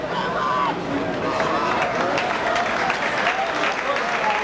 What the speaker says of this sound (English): Gets a round of applause